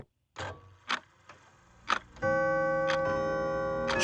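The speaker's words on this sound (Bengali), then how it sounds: "সঙ্গে সঙ্গে ঘড়ির কাঁটাতেও ঢং ঢং করে 2টো বাজল।" A wall clock strikes two o'clock, heard as sharp chime strokes over a quiet room, followed by a sustained ringing tone that lingers as further strokes sound.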